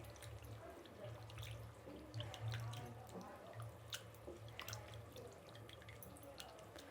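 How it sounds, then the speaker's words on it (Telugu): Boneless chicken pieces are washed by hand in a bowl of water, giving faint splashing, dripping and sloshing over a low background hum, with no talking. "ఇలా ఒక 3 సార్లు కడుక్కోవాలండి చికెన్ అనేది"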